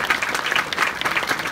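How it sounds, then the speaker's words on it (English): Audience applause for a school principal at a mock crash demonstration event, a dense steady wash of many hands clapping at moderate loudness throughout. "Let's give a big round of applause to your principal"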